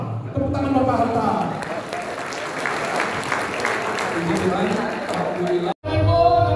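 A crowd at an Indonesian property event in Sentul City applauds Bapak Hartan Gunadi, steady dense clapping lasting several seconds amid voices, cut off abruptly before a speaker resumes.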